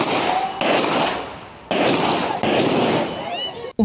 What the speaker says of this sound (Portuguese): Disparos são ouvidos.